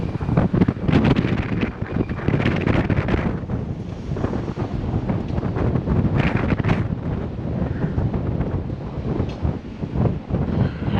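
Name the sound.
strong wind gusts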